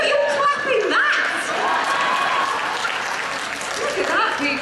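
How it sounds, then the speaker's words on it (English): A fan convention crowd at a Catherine Tate panel at Dragon Con claps and cheers loudly. Shouts, whoops and laughter break through the steady applause. "See, look, you're clapping that!"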